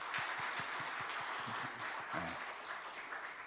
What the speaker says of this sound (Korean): 이분들도 한 해 동안 수고하시라고 박수 한번 드리겠습니다